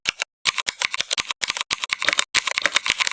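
Rapid clicking of keys on a normal computer keyboard set to play typing sound effects, loud and close, with bursts of keystrokes separated by brief pauses.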